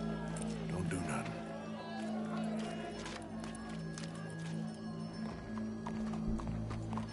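Horse hooves clop and a horse neighs faintly in Red Dead Redemption 2, blended into a low steady hum with crowd-like background noise and no clear speech.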